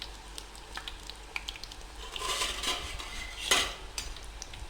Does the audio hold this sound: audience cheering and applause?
no